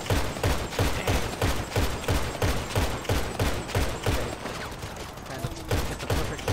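Rapid marksman rifle fire in Grand Theft Auto V: a steady, dense stream of loud, evenly spaced shots continuing throughout, with voices faintly underneath.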